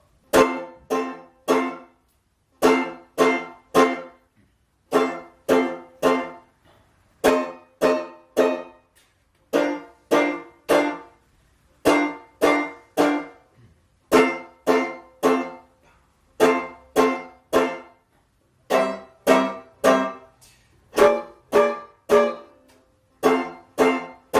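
Tenor banjo plays a stop-time rhythm: clusters of three sharp strummed chords followed by silences, repeating steadily and bright, with no voices.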